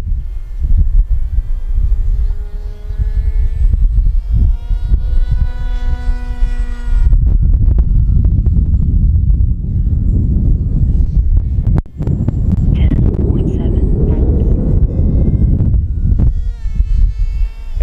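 An RC motor under throttle during a receiver test on a LiPo pack, giving a loud whining hum with rising and falling pitch, alternating with a rougher steady buzz.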